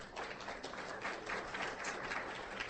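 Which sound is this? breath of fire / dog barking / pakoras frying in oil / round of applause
round of applause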